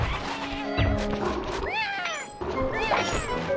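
Cat-like meows and yowls from Chihuahua guards in the stealth game Sly 3, using recycled cat guard voice lines. Several rising and falling calls over busy game sounds and music.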